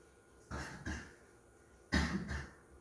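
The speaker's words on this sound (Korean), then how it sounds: "기침하는 거 봐, 한참." Two separate bursts of coughing in a classroom, each a quick pair of harsh coughs, heard at moderate distance against quiet room tone with no talk.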